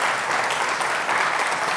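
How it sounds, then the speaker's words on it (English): Brief burst of audience applause at the Lichfield Live Community Awards 2021, a crowd clapping steadily and fairly loudly in a hall with no voices on top. "But a round of applause, none."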